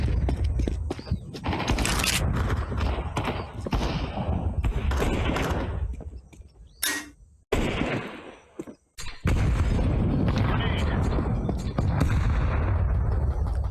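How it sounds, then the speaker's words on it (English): Flashbang grenade thrown and exploding in a shooter video game, loud booming blasts and gunfire bursts over several seconds, with a brief quieter gap before the firing resumes. "Throwing flashbang."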